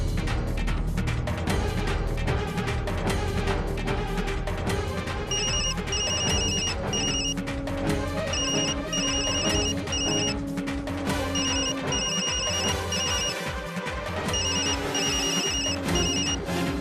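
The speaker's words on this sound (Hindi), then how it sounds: "ओ बहन जी, आपके फोन बाज रहल बा, उठा ला।" A phone ringtone repeats in short bursts of bright electronic tones over a dense musical background, ringing steadily for several seconds.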